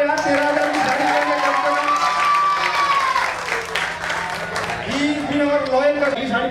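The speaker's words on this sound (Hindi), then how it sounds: "अरे तालियां बजाओ यार" A crowd claps for Bunty during a lively sari auction, with applause buried under loud, continuous, animated speech from a man leading the event.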